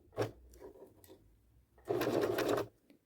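A sewing machine stitches a skirt hem in short bursts: a brief run of rapid needle clatter, a pause with light handling noises, then a longer steady burst of stitching.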